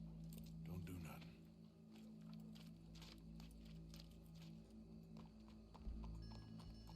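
A horse walking in the Red Dead Redemption 2 video game, soft clip-clop hoofbeats under a low ambient hum and muffled background sounds, fairly quiet.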